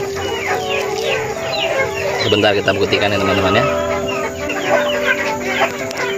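Free-range village chickens cluck and squawk close by during feeding, a busy overlapping flock chatter with a louder burst in the middle, while someone talks over them.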